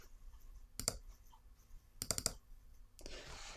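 A computer mouse clicks quietly at close range in one single click and then a quick cluster of three, followed by a brief soft rustle.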